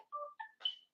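A phone rings faintly indoors, a short melodic ringtone of a few rising electronic tones in quick succession with no talking.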